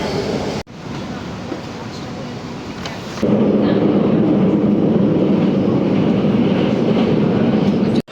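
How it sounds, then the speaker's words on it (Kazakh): Shanghai metro train running underground, a steady loud rumble and roar that surges louder midway through as the carriage speeds up, with a brief break in between. "Так, біз метродан түстік."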